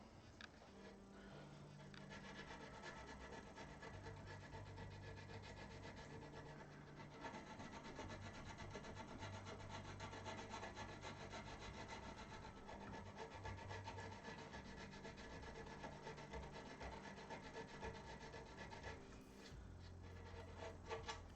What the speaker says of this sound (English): we're on to fine sanding